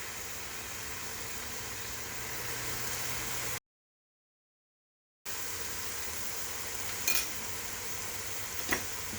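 Food being stirred in a pan after Italian seasoning and garlic are added, during the making of white lasagna soup. A steady hiss of sizzling runs throughout, broken by a short cut to silence, with a couple of brief scrapes near the end.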